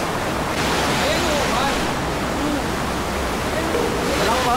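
Alaxan falls roars as a steady, dense wash of rushing water, loud and close throughout, with a faint voice briefly audible beneath the torrent.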